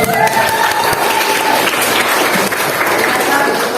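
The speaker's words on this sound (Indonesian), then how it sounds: "Tepuk tangan." A classroom audience claps together after a presentation about an inspiring Indonesian biography during a teaching assessment, a dense, steady burst of applause filling the room for several seconds.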